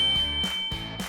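A bell sound effect for a subscribe reminder chimes in a quick ding-dong pattern, loud and close, with a sustained high ringing tone beneath it.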